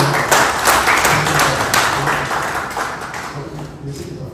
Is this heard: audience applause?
yes